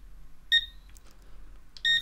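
Two short electronic beeps from a Garrett or Nokta metal detector pinpointer while its menu level is set, clear and close against quiet background, the second pair arriving about 1.3 seconds after the first.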